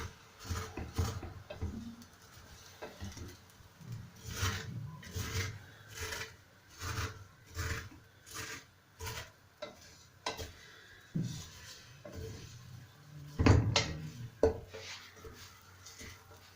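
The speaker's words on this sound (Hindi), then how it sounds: "अब मैं इसको थोड़ा सा भूनूंगी, सेवइयों को मैं भूनूंगी।" Vermicelli (sevian) being dry-roasted in a pan, producing a rhythmic series of soft scraping, rubbing strokes as it is stirred, close and fairly quiet with brief pauses between strokes.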